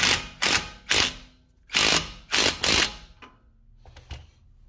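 Six loud, close bursts of ratcheting from a wrench tightening a CV axle nut on a Honda Civic, then a couple of fainter clicks with quiet gaps between them.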